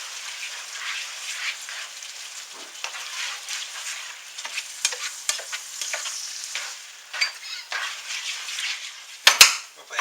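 Tomato sauce stirred into chili frying in a pot, a steady close sizzle under continuous spoon stirring and scraping, ending with a sharper clank of the utensil against the pot.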